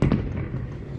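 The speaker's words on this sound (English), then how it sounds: "I like fireworks." Fireworks go off outdoors around a 100th birthday celebration, heard as a steady, rumbling wash of noise with a faint thump at the start and no voices over it.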